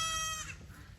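Goats on a small farm bleat repeatedly in a wavering, nasal call, close and clear at first and then fading into quieter farmyard noise with a rainy outdoor background.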